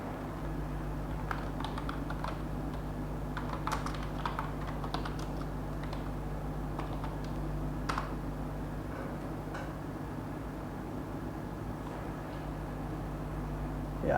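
Typing a command on a computer keyboard, a quiet stream of light key clicks in uneven bursts over a constant low electronic hum, with no voices.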